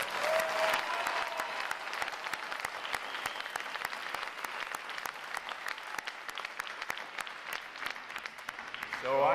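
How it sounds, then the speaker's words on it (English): Audience applauding at a U.S. Navy recruit boot camp graduation after choir, drill team and band performances: steady, dense crowd clapping sustained for about nine seconds at moderate level, with a faint voice underneath and a louder swell at the very end. "How about a round of applause for outstanding performance today"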